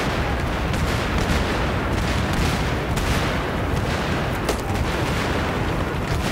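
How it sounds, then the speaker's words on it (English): Grenade and rocket explosions in the shooter video game Battlefield 3, a dense, loud wall of booms and gunfire rumbling continuously with no pause, heard without talking. "This is just grenade and rocket abuse."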